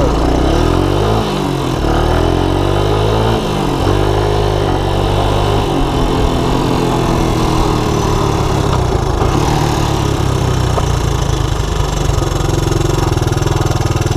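A Honda Big Red ATC200ES three-wheeler engine runs loud and steady up close, its pitch rising and falling with a few early throttle changes before it settles into an even, continuous drone.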